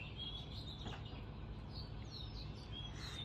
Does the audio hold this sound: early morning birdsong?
yes